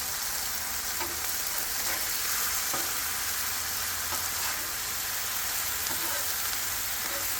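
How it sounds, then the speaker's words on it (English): Sauce bubbles and sizzles with chicken on a Blackstone flat-top griddle at a hibachi-style cook, a loud, close, continuous frying hiss with faint scraping and stirring taps throughout and no voices. "when you put this sauce on here and this starts bubbling, I promise you, it will burn"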